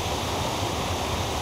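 A waterfall on a rocky Ontario river pours steadily, a dense, constant roar of rushing water heard close and alone with no voices.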